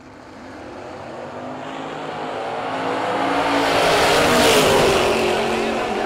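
Drag race car making a pass at a no-box bracket race, a steady loud roar that builds and swells toward the middle, then holds as it carries down the track, with an announcer talking over it.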